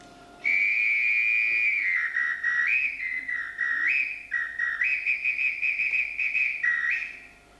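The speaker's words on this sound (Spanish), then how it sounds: "Él va dirigiendo todo con el silbato." A loud, shrill whistle blown in long sustained blasts with pitch shifts and short breaks, repeating in a signalling pattern to direct a percussion group, alone with no voices.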